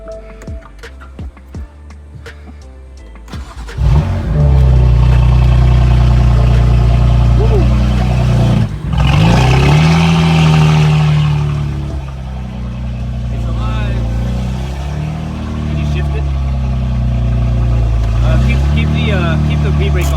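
A totaled BMW M4 Competition F82 with front strut and control arm damage, its engine starting and settling into a loud, steady idle with shifting tone, while people talk over it.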